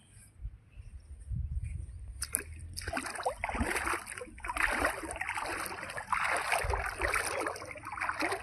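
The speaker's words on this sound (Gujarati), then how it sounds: "રૂપેન નદીનું પાણી કેવું આવી રહ્યું છે" The Rupen River rushes past, filling the scene with a steady broadband roar and splashing, starting quiet then swelling loud after a couple of seconds and continuing unbroken.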